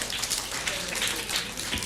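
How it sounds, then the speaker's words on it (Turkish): Children and an audience at a kindergarten show applaud together in a steady, dense wash of clapping that runs throughout, fairly close and even in loudness. "Kocaman bir alkış herkese."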